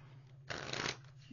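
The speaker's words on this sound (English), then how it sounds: "Two more shuffles." A deck of tarot cards is shuffled once, a short soft riffling burst of flapping card edges in the middle of a quiet moment, close and faint.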